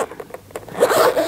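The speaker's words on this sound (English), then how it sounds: "You get a good set of double zippers." Double zipper on a semi-hard Nintendo Switch carrying case pulled open in one quick run, a short ticking start building into a louder, steady rasp near the mic.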